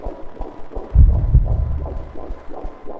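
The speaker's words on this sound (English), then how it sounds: "This heartbeat's a little slower." A slow, heavy heartbeat from the psychological horror game The Moth pulses as deep, muffled thumps, loudest near the middle and steady in rhythm with no voices.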